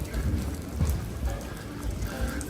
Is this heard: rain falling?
yes